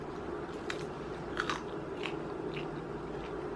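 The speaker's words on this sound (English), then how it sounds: "Definitely a little more crunch going on here." Crisp, oil-free oven-baked potato fries coated in potato starch are bitten and chewed close to the mic, giving a few dry crunches over a quiet, hissy room background.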